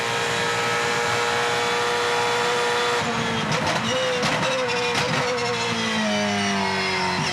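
A Supercars race car's loud, continuous engine roar at Bathurst's Mount Panorama during qualifying shifts pitch mid-way, rising and falling as it passes through the bottom of the Chase, with brief clattering bursts layered over it.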